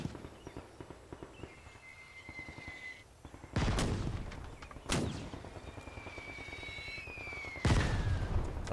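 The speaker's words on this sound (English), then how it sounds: "some pretty accurate artillery fire, to be honest" Artillery fire in the World War II strategy game Gates of Hell during a trench defense battle: three heavy booming blasts spaced a second to a few seconds apart over a low background of distant combat noise and whistling shells.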